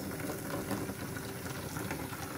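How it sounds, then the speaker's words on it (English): Water running and splashing as empty containers and ice buckets are filled at home for a colourful ice castle, a steady close rush with no talk. "We're gonna fill them with water."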